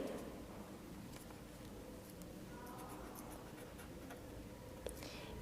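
Pen or pencil scratches on paper during a Class 9 geometry lesson, quiet and close, with faint intermittent strokes over a steady background hiss and no talk.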